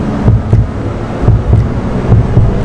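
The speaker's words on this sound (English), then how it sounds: "You hear that? Little heartbeat." Simulated heartbeat pulsing inside a Mercedes AVTR concept car, a steady low double thump repeating about every second under a soft, airy cabin hum.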